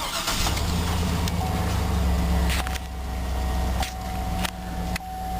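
A 2003 GMC Sierra 2500 HD pickup with 62,000 miles starts up and settles into a steady, loud engine run close by, with a few sharp clicks and level shifts through the rumble.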